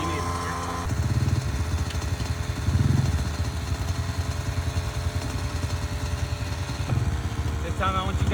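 A child's dirt bike engine idles and revs on a practice track, a steady close motor drone with throttle surges rising twice, with speech over it.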